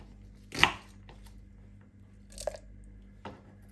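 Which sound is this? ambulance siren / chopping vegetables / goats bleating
chopping vegetables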